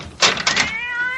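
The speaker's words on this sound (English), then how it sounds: "that damn cat!" A house cat meows loudly a few times up close, the cries gliding into a drawn-out whine, in an old radio drama.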